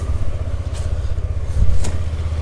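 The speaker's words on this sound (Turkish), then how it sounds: "Şöyle bir çalıştıralım." A Yamaha NMAX 155 scooter engine runs with a loud, low, steady idle and a brief swell partway through, heard close with no talking.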